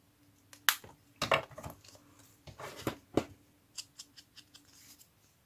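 Scissors snip through paper for a small craft project, a series of sharp, close cuts with short pauses, strongest in the first half and trailing into lighter clicks.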